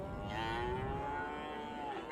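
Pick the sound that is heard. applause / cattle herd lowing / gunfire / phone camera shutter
cattle herd lowing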